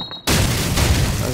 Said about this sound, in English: That was a sick grenade.